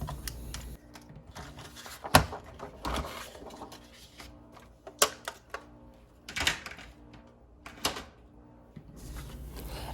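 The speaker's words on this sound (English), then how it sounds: "I'm just trimming a half an inch off of two sides" Navy paper being trimmed on a paper trimmer, taking a half inch off two sides for an 11.5-inch square, giving a series of sharp close clicks and slicing strokes at irregular intervals in a quiet room.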